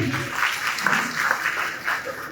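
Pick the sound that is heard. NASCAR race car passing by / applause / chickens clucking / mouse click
applause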